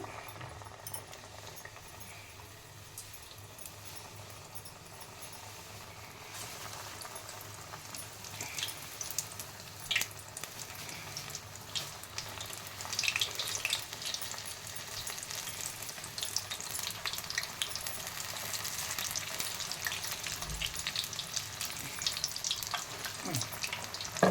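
Tomato bhaji dipped in batter and dropped into hot oil, frying with a steady crackling sizzle that grows busier and louder over the length, with occasional spits and pops and no talk.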